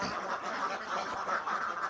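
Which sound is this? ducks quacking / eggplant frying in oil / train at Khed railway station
ducks quacking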